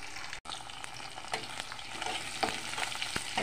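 Washed sidol, fermented dried fish, fries in hot oil alongside garlic pieces, giving a steady close sizzle broken by repeated stirring scrapes and taps against the pan.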